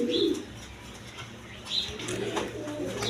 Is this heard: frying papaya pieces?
no